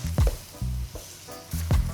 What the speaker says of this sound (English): Now I'm starting to brown my chunks